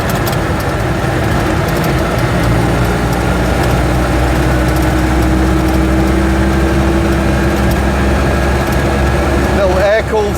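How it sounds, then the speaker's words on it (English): The air-cooled Steyr-Puch flat twin of an Invacar runs steadily at idle, a constant close, loud low hum with no break, and a brief clatter at the very end. "Air-cooled flat twin engine from Austria, Steyr-Puch."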